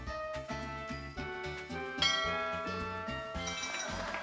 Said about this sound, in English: I just rang the bell.